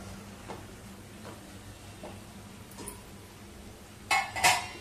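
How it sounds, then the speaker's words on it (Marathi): A spoon stirs homemade sambar masala in a pot, giving faint scrapes followed by a couple of bright, close metallic clinks against the rim. "मसाला चांगला एकदा हलवून घेऊया"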